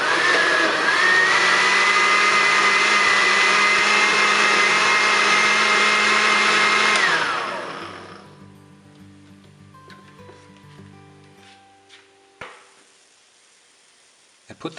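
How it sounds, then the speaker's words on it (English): A kitchen blender runs loud and steady mixing tomatoes and water, whirring continuously for about seven seconds before spinning down, followed by quiet small clicks and knocks. "I mix the tomatoes and the water in the blender."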